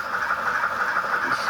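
The sound decoder in a model City of Truro steam locomotive gives off a steady, droning, hissy hum, moderately loud and continuous, with no voices.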